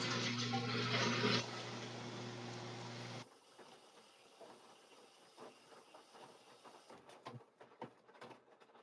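A front-loading washing machine fills with water: a loud, steady hissing rush with a low hum for about three seconds, then a quieter trickle broken by soft knocks and splashes near the end.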